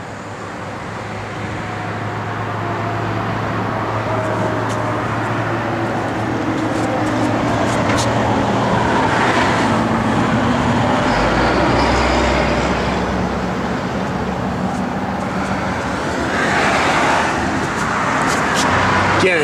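A 1956 Chevrolet 210 with a Wilwood front brake kit runs nearby, a steady low engine rumble that swells gradually and holds, with a brief deeper surge midway and faint background noise.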